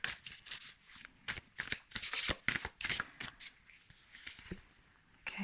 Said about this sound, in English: Too many cards. Let's shuffle them.